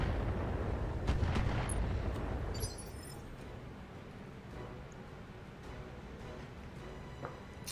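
Mech weapons firing in the BattleTech video game, a dense rumbling barrage of artillery-like blasts that is loudest in the first few seconds, then settles into a steadier, lower roar with scattered sharp reports.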